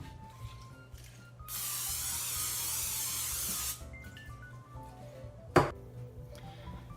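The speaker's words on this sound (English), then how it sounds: "Now I'm gonna take this cookie sheet and I'm gonna grease it." A short, steady hiss of cooking spray greasing a cookie sheet lasts about two seconds amid quiet kitchen background, followed by a single sharp knock.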